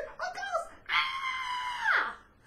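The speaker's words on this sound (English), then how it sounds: "started screaming" A person on a Halloween comedy show screams as if in fright: a short cry, then a long, high, sustained shriek that bends downward at the end, fairly loud and alone.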